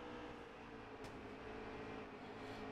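Steady, droning stock car engine roar from NASCAR Heat 3 racing, a continuous dense rumble with a faint pass-by swell, no talking.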